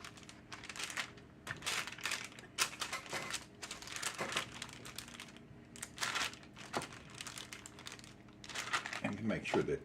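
A rolling pin presses sausage roll dough flat on parchment paper, giving close crinkling, rustling strokes in uneven bursts with soft thumps, while a person speaks over the rolling.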